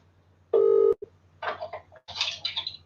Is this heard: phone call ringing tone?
yes